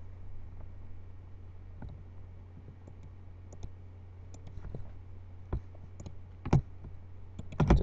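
A computer mouse clicks sharply at irregular intervals, single clicks and quick pairs over a quiet low hum, close and fairly faint.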